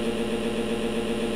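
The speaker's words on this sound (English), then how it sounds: "With the board going sideways, the revs going up" Several motocross bike engines from the MX Simulator game rev and idle together at the starting gate of a 250 class race at Millville, a steady, loud droning hum with a fast pulsing throb and no speech.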